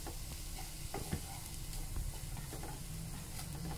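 A chicken nugget mixture seasoned with soy sauce stir-frying in a pan, a soft continuous sizzle broken by repeated spatula scrapes and taps, fairly quiet and close with no speech.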